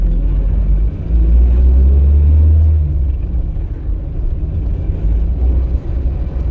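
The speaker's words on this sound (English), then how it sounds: "Get into fourth gear, just tugs away really nicely." A small car related to a classic Mini pulls in fourth gear, giving a loud, steady low engine drone and road rumble heard from inside the cabin, with no talk.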